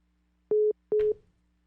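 A busy signal sounds as a phone call drops during a radio call-in show, two short steady beeps, the second ending in a crackle, clear against near silence.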